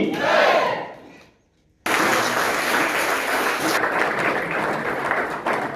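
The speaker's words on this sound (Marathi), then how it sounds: "एका जोरदार टाळ्या" Loud crowd applause and shouting at a college felicitation for an NCC under-officer in Malvan, a roaring burst that drops briefly to near silence, then returns as dense, sustained clapping.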